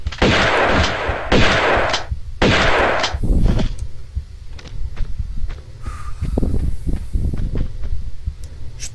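Enemies fire shotguns in Tomb Raider 2: three loud, booming blasts come in quick succession, followed by quieter scuffing footsteps and faint clatter.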